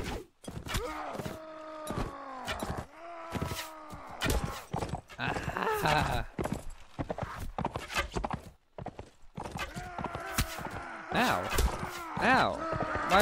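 Horse hooves clip-clopping in Mount and Blade Warband, a medieval combat game, with a horse groaning or neighing amid busy game noise, while someone talks loudly over most of it.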